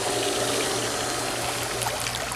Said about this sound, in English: I'm going to put it back on filtration to filter the water